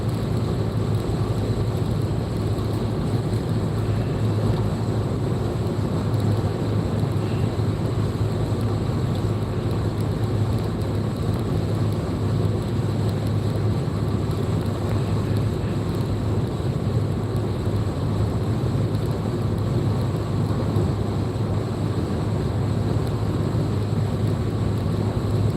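Strong wind roars steadily against the microphone, a constant low rumbling buffet with no breaks for the whole stretch and no voices.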